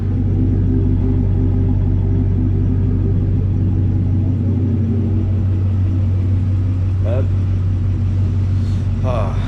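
Truck engine idling close by, a loud, steady low rumble with constant droning hum throughout, with a couple of brief higher sounds near the end.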